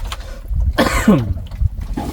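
A single rough, throaty cough up close, brief and loud against a low rumbling background.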